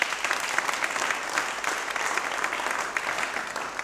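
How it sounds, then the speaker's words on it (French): Studio audience applauding guests on a French-language television show, a steady, dense wash of clapping that holds evenly throughout without any voices. "On va applaudir encore pour nos invités."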